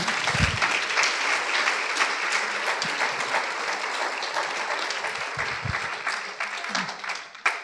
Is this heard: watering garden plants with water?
no